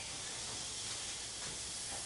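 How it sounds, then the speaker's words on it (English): Compressed air from a shop compressor hissing as the air hose is plugged in, a steady, even, close hiss lasting the whole moment. "Got to plug the air into the compressor."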